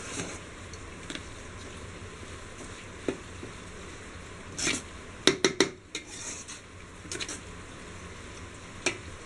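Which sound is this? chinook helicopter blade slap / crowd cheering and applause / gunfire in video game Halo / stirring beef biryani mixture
stirring beef biryani mixture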